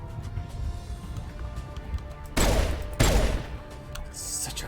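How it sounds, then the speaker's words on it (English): A pistol fires twice in a video game, two loud, sharp reports about half a second apart, rising out of a low ambient hum. "Such a cool pistol."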